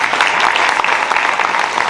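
A seminar audience applauds, dense clapping from many hands that stays loud and steady throughout with no talk over it.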